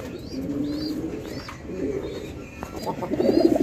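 Pigeons coo softly and repeatedly at a breeder's or seller's loft, low throaty calls rising and falling at a moderate distance over a faint background hiss, with no speech.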